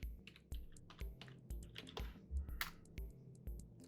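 A computer keyboard is typed on during a Windows 10 installation, with a command keyed in at a command prompt. Crisp, close keystrokes run in quick bursts, and a few heavier key presses fall at regular intervals, with no talk over them.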